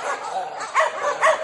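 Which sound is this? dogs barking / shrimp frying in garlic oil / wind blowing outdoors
dogs barking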